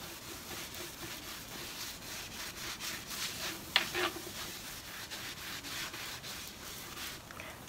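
Hand buffing of a painted wooden bedside table, a steady dry rubbing with soft repeated strokes running throughout, fairly quiet and close, with one brief knock partway through.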